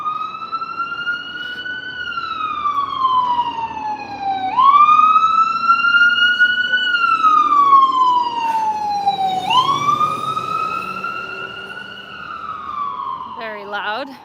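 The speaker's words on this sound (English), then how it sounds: "Oh, one sec, we'll wait for the siren here." A loud wailing emergency siren sweeps up and down in slow cycles as the vehicle passes along a downtown Calgary street, close and dominant over faint traffic noise.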